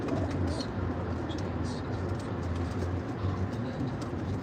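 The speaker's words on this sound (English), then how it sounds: "We have 4 baskets of racing pigeons back there." Racing pigeons coo softly from four baskets in a loft setting, a low, dense murmur of overlapping cooing with some higher chirps, steady throughout.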